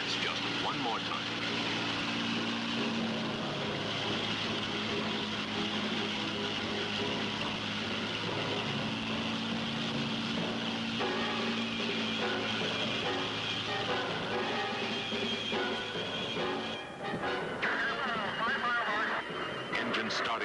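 A heavily modified four-ton Grumman Bearcat racing plane flies full throttle on a 1969 world speed record run, its engine a continuous loud, dense roar with layered music and narration over it.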